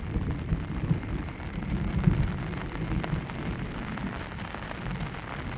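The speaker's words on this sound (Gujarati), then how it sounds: "ઓલ ગુજરાત બધે એટલો વરસાદ છે" Heavy monsoon rain pours steadily in Gujarat on the first rain of the season, a dense even hiss of drops on surfaces with no voices.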